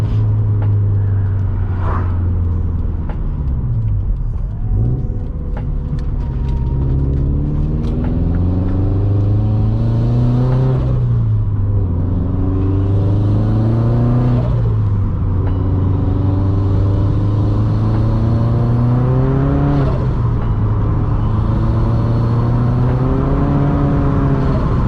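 A turbocharged Subaru BRZ driving and accelerating, a loud steady engine drone rising and falling through repeated gear pulls, heard from inside the car without talk.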